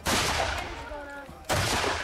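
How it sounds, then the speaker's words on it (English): Period reenactment guns fire in an artillery duel between French and British cannon, two loud booming blasts about a second and a half apart, each trailing into a rumbling decay, with a faint tonal sound between them. "an artillery duel develops between the French and the British guns"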